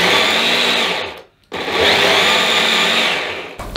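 An electric blender blitzes garlic and onions in two loud, sustained whirring bursts, split by a brief near-silent pause, with no talking.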